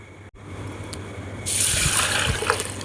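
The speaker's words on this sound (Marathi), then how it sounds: "तांदूळ चांगले स्वच्छ धुवून घेऊया" Ration rice is washed in water in a home kitchen. After a quiet, low start, water suddenly gushes in halfway through, giving a loud, close splashing rush with small sloshing bumps.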